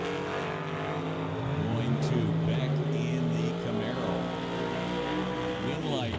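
A Camaro and a roadster race down a drag strip, engines roaring loudly and sweeping upward in pitch as they accelerate, with an announcer talking over the noise.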